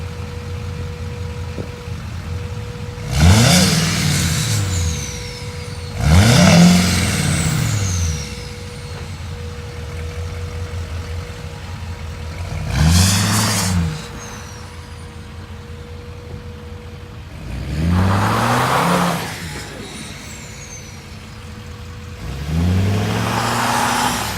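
A 2013 Chevrolet Silverado 2500 LT 4x4 with Duramax diesel and Allison transmission revs five times in spaced bursts, each rising and falling from a steady idle, loud and close.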